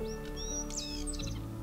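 Réunion stonechat giving its tec-tec call in native forest on Réunion island: several short, bright chirps and whistled notes in quick succession, moderately close, over a steady low background hum.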